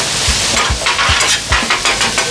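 Food sizzling and frying on a Blackstone flat-top griddle outdoors, with scraping and stirring strokes against the steel surface in a steady rhythm over a constant hiss.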